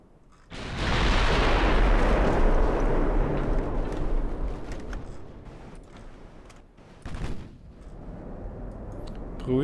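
Naval gunfire from heavy cruisers in the video game Ultimate Admiral: Dreadnoughts, with heavy booming salvos that swell into a long rumbling roar, then fade, followed by another burst near the end.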